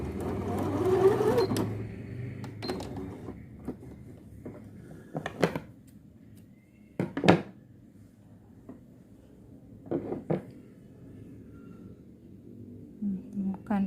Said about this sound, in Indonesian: Kita jahit dulu di sini.